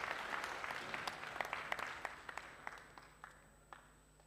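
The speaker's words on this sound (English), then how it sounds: "Let's give a wonderful clap to the Lord." A church congregation at an English service claps, fairly quiet and somewhat distant, starting as a full round of applause and thinning into a handful of scattered, separate claps before fading out.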